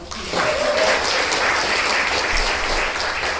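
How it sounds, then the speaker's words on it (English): Applause in a home baking setting, a steady, full-bodied burst of many hands clapping that starts abruptly and keeps an even level until the end. "A round of applause for the flour"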